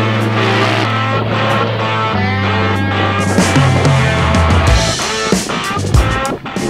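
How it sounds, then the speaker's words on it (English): A Razor off-road vehicle ripping around an off-road course, its engine loud and constant, rising and falling with throttle, with rough rattling near the end. "So we just ripped around on the off-road course in the Razor"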